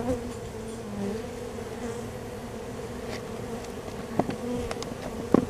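Honey bees swarming around a hive built inside a bird house make a steady, close droning hum that holds throughout, with a few sharp clicks and knocks near the end.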